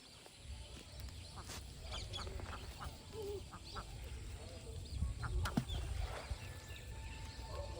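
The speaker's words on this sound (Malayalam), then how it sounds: "മറ്റേ താറാവ് വീണ്ടും പോവാണ്." Ducks at Vaikom in rural Kerala give faint, distant quacks scattered over quiet outdoor ambience, with a slightly louder burst of calls near the end.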